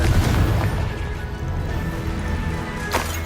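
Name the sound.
Confringo blasting spell explosion in Hogwarts Legacy video game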